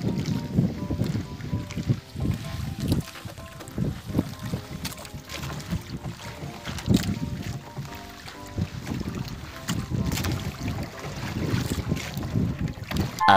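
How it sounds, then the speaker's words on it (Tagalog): Wind gusts over a small fishing boat at sea off Camarines Sur at dawn, while a floating fishing net is hauled in; a steady low rumble with rhythmic pulsing swells, and faint voices underneath. "Bigla na lang nagkahangin."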